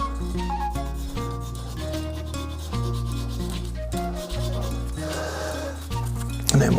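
Coarse-grit sandpaper rubs steadily against a turning resin shaving brush handle on a lathe, a continuous close scraping hiss over the low hum of the machine, with no talking.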